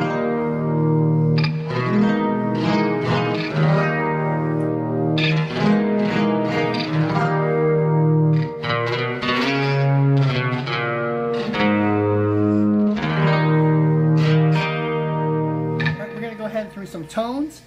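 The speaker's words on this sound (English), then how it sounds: "layer it, add some chorus and some compression and some delay and reverb" An electric-acoustic Les Paul-style guitar plays a flowing melodic line drenched in shimmering chorus, compression, echoing delay and spacious reverb, with no voices.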